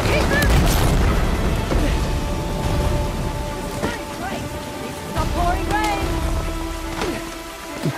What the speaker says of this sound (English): It is pouring rain, you silly.